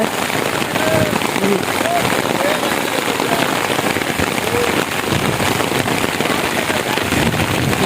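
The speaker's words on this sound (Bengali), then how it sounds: "দেখো তুমুল বৃষ্টি" Heavy rain pours steadily and loudly throughout at Haripur bridge, a dense continuous hiss of drops drumming on surfaces.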